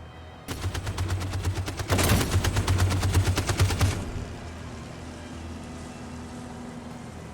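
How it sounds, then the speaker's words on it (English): Gunfire in Detroit: Become Human, a dense, rapid burst of automatic shots starting abruptly and continuing for a few seconds, loud and close, then cutting off to a low hum. "Why did they just blindly shoot?"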